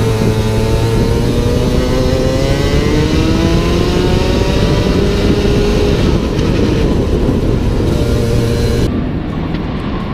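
A high-revving 125 cc two-stroke racing kart engine screams loudly and continuously, its pitch climbing and shifting as it races close by on the Berck-sur-Mer track.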